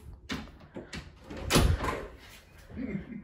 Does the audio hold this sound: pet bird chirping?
no